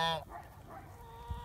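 Farm goose giving a single loud, nasal honk at the start, close by, followed by quieter low rustling.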